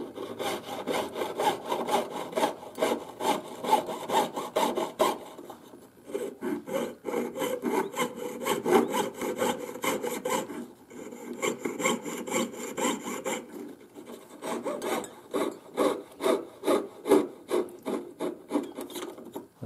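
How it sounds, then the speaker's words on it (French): Wood sawn by hand at an angle to cut a circle from a square, steady rhythmic back-and-forth rasping strokes close by, briefly pausing twice before resuming. "donc là je scie en angle et là je le fais sans aucun repère"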